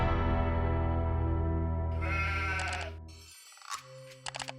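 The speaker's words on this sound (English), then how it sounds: "He had 50 sheep, perfectly healthy, set aside." Sheep bleating: a long, loud, wavering bleat close by, followed by a few fainter, shorter bleats and calls.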